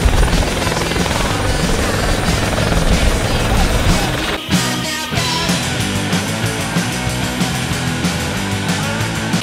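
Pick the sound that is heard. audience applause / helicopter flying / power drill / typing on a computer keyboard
helicopter flying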